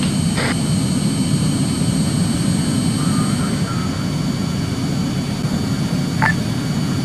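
A jet aircraft taking off from a runway in the military video game Arma 3, its engine a loud, steady roar throughout with a couple of brief radio-like beeps.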